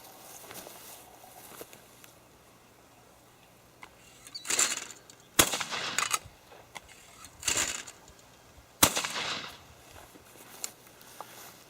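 A Fabarm XLR5 Waterfowler semi-automatic shotgun fires fast 1 1/8 loads outdoors: two sharp, separate reports a few seconds apart, each followed by a brief rustling burst, with quiet background between shots.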